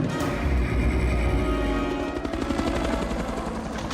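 A helicopter's mounted gun opens fire in a Hulk movie fight scene, a rapid rattling burst over a heavy rotor drone, loud and continuous with no talking.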